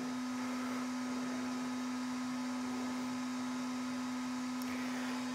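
A bidet seat's air dryer fan whirs steadily with a strong constant hum, running evenly and alone at close range, never changing in pitch.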